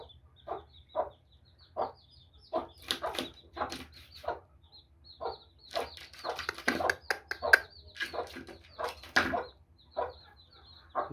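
A hen calls her Heera Aseel chicks with soft, repeated clucking bursts, spaced at first and then more rapid, with the chicks' faint chirping nearby in a quiet setting.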